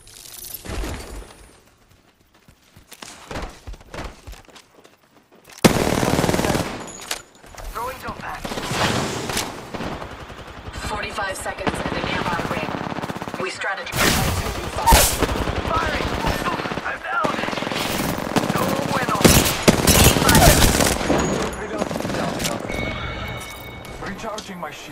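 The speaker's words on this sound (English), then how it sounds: "I'm under fire." Gunfire in the battle royale game Apex Legends, rapid automatic bursts and scattered shots mixed with impacts and game effects over a long noisy stretch, with a voice talking throughout.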